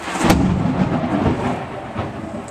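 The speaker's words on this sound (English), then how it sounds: "yeah, that was thunder" Thunder rumbling heard during a 2005-2011 Honda Civic power steering pump replacement, a steady low roar with a sharp crack near the start, continuous and fairly loud with no talk.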